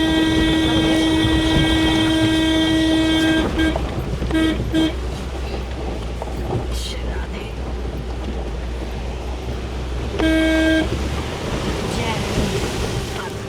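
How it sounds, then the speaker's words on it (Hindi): Steady, loud horn blasts from a camper van on a high mountain pass road in Ladakh, a long held honk that stops, then a shorter honk later, over constant engine and wind rumble. "पता है मैं हॉर्न बजा रहा हूँ"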